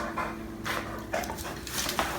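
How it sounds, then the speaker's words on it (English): A dog pants heavily in quick, close, rhythmic breaths, about four or five bursts, with no talking. "He's breathing so heavy."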